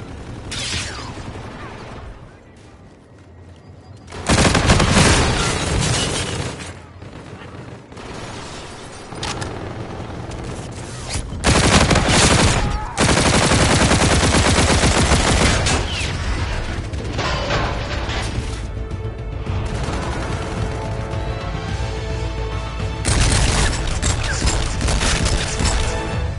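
Game gunfire in loud, dense volleys with booms and crashes, coming in long bursts separated by short quieter gaps, the barrage close and dominant throughout.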